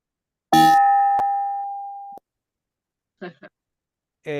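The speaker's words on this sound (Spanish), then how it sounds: "Vamos al toque de campana para dar el cierre de la actividad" A single bell strikes once to close an event, ringing clear and sustained for over a second before cutting off, followed by brief quiet and short bits of talk.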